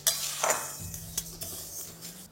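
Moong dal stirred and dry-fried in a pan over a medium flame, with a few close clinks and scrapes of a utensil against the pan over a soft, low sizzle.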